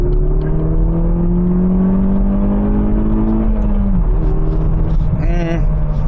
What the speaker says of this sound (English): There's no character in the engine at all. It's completely flat.